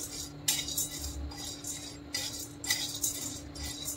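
Sattu is stirred and lightly roasted in a pan for homemade laddoos, giving a steady scraping and clinking of a spoon against the metal in repeated bursts over a low hum, with no talking.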